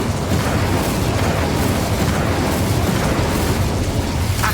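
Incendio fire spell blast from the Hogwarts Legacy video game, a loud, dense roaring burst of fire that stays sustained and full throughout, without pauses or speech.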